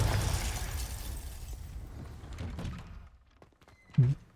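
A Confringo blasting spell goes off in the Hogwarts Legacy video game, a sharp explosive thump near the end following a stretch of rumbling spell effects and game ambience.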